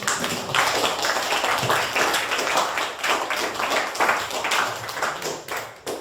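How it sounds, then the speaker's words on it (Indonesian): A classroom full of students clapping together, a steady dense patter of many hands that keeps going for several seconds. "give us all the best applause. Kita tepuk tangan dulu."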